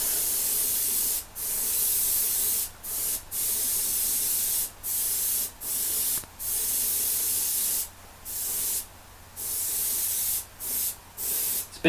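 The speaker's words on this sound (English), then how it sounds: "So I'm just going to start airbrushing this badab black, and we'll see what happens." An airbrush sprays Badab Black paint onto a model in a gunmetal finishing job, giving loud, steady hissing bursts of a second or two each, broken by brief silent gaps between passes.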